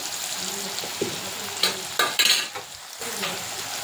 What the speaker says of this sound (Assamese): ইয়াতে দিম মই হালধি এক চামুচ হালধি দিম